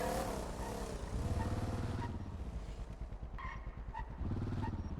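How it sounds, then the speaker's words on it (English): Car engine revving behind the player in the NoPixel driving game, a loud continuous engine roar rising and falling in pitch with steady throttle pulses, close and filling the whole stretch. "when I hear a car revving up behind me"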